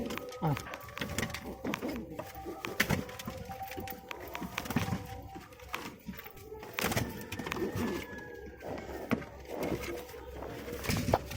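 Pigeons coo softly amid fluttering and scattered clatter, while people talk nearby.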